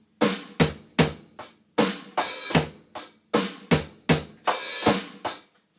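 A steady drum kit groove with punchy kick and snare hits and crisp hi-hat, loud and close, played alone without talking.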